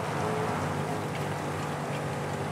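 Rain in the Dakar 18 rally video game falls as a steady hiss, with a low engine hum running underneath throughout and no voices.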